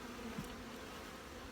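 Honey bees in a yard of about 430 beehives buzz in a steady, dense drone, faint but constant, with no voices.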